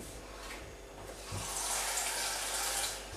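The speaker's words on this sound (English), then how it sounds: "just a few tablespoonfuls of water, just to provide the buffer against the heat of the gas" A little water trickles and splashes as it is poured into a pan of apples, a soft steady pour that grows slightly fuller partway through, with no voices.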